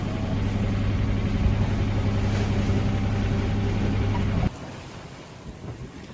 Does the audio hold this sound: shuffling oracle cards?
no